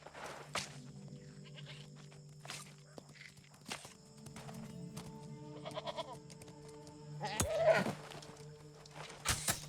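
Sheep in New World: Aeternum bleating a few times in short nasal calls, heard over footsteps and faint background game ambience, with no talk.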